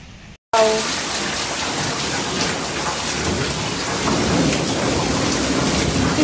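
Heavy rain pours steadily during a hailstorm in Newcastle, with deep thunder rumbling underneath; the dense roar stays loud and continuous after a brief silent gap at the start.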